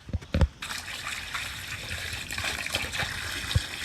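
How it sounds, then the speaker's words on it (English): Water pours steadily into a brine container holding a turkey, a close splashing gush with a few knocks at the start, continuing as a constant trickle and slosh. "I'm going to do just a little more water."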